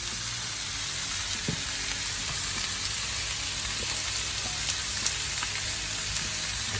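Vegetables with onions and garlic hit smoking-hot oil and sizzle in a loud, constant, dense hiss that carries on without pause and with no voices.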